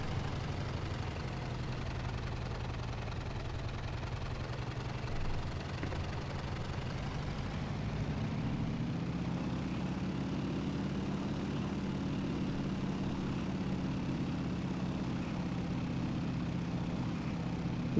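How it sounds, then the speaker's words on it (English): Several B-17 bombers taxi in a flight-sim game, a steady low droning rumble of idling radial propeller engines that swells and shifts in pitch partway through, continuous and moderately loud with no talk. "And a couple B-17s just yeeting it down the taxiway there."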